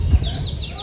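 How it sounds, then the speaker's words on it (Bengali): Birds calling in a rural village on a cool morning, a few quick high chirps over low rumbling background noise, all within a brief moment. "পাখি ডাকাডাকি করতেছে।"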